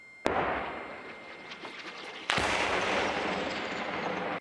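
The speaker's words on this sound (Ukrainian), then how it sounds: "стріляли по нам" Gunfire caught by a surveillance camera at night: two sharp, loud reports about two seconds apart, each followed by a long rumbling decay with scattered crackles between.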